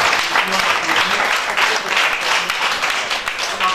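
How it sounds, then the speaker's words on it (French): A congregation at a Christian gathering applauds loudly and continuously, a thick wash of clapping with voices mixed in beneath it. "Applaudissez le Seigneur."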